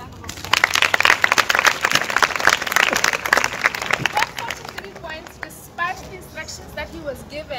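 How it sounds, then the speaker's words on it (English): Loud, dense applause from a school audience, strong clapping that fades out after about four seconds as a voice begins speaking. "Yes, give him a round of applause."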